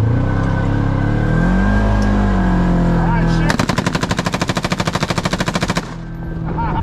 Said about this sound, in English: People do it with pistols or shotguns, but not out of a razor with a machine gun.